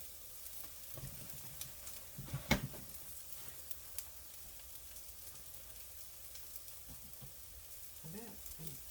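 Chicken taco shells frying in grease in a home pan, a faint steady sizzle with occasional scraping and stirring clatter, one sharper clunk partway through.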